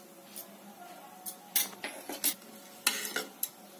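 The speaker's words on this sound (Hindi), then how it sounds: "ये तेल अच्छे से गर्म हो गया है, अब मैं इसमें 1 चम्मच भर के जीरा डाल रही हूँ।" Cumin seeds go into hot refined oil and sizzle in short crackling bursts while a metal spoon scrapes and clinks against the pan, all close and fairly quiet, with no talking.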